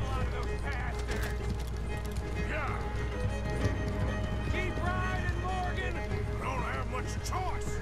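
A horse gallops in Red Dead Redemption 2, its hooves beating a steady clip-clop rhythm under game music and talking.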